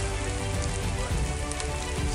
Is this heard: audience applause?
no